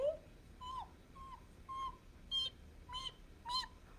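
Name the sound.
hungry baby birds calling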